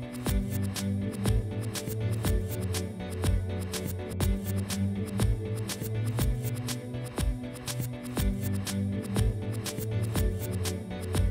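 A Miller ACS 2 armored cable slitter runs a longitudinal cut along armored fiber optic cable, giving a steady stream of rapid, crisp clicking and rasping against a constant low hum, close and evenly loud throughout, with no talking.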